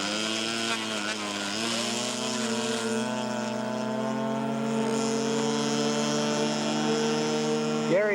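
A radio-controlled scale model airplane, a Piper Cub type, drones steadily in flight at an aircraft show, its engine whine holding a sustained pitch that rises and bends near the end, faint and somewhat distant.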